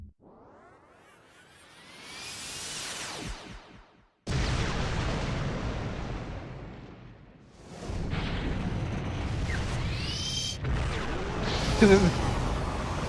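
Brahmastra weapon firing in the video game Asura's Wrath: a rising charge-up whine, then a sudden massive blast and sustained roaring explosions that swell and recur, loud and layered with shimmering sweeps.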